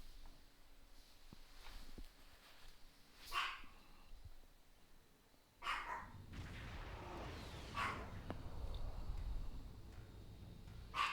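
Two dogs at home, a small one yipping and a bigger one barking, set off by a leaf blowing outside; a few sharp bursts stand out over a low, steady background, moderately close and with no talk.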